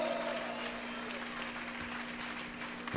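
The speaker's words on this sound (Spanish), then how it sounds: "denle un aplauso a Dios." A church congregation applauds together, a soft, steady wash of clapping heard from a distance, with a constant hum running underneath.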